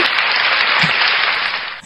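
A dense burst of applause rings out at a religious gathering, loud and close, a continuous crackle of many hands that fades at the end.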